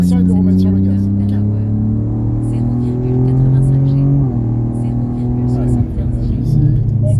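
Race car engine running on a track under light throttle, a steady mid-pitched drone that rises gradually, dips briefly around the midpoint, then climbs again; loud and continuous throughout.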